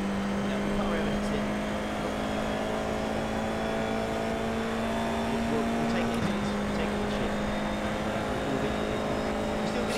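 A race car in iRacing sustains a steady, high-pitched engine drone around Fuji Speedway, with a brief gear change partway through and a constant loud whine throughout.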